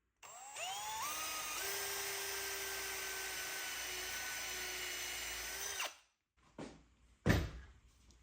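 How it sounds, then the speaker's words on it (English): A power drill drives a screw into wood slats with a loud, steady whine lasting nearly six seconds, its pitch sagging slightly under load before it stops. A couple of soft knocks and a thunk follow as the work is handled. "This wood just burns up the drill bit."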